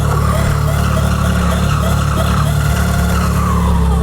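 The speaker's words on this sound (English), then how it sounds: "Let me rev this one." A roughly 1000 cc motorcycle engine runs loud and close in a continuous, heavy low-pitched rumble with a steady throaty drone throughout.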